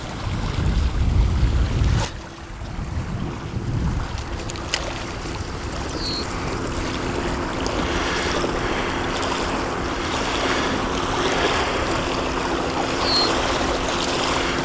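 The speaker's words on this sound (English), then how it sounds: "It's waves kind of coming in pretty hard" Ocean waves rush in hard at an old boat launch spot, a steady wash of surf and wind; a heavier burst at the start gives way to continuous, moderately loud water noise with a faint mechanical hum.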